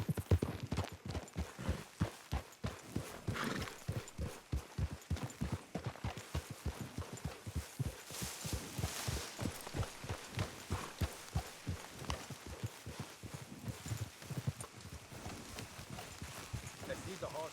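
Horses clip-clopping along a road in Red Dead Redemption 2, a steady rapid rhythm of hoofbeats close by, with faint voices talking over them.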